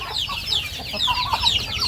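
Thai native chickens cluck at morning feeding, a dense, steady chorus of overlapping clucks and chirps, close and moderately loud with no talk.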